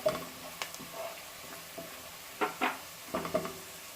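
Golden-brown onions fry in a pan with turmeric and chili powder for paneer kofta, a soft sizzle broken by several close stirring scrapes and taps, with no talking.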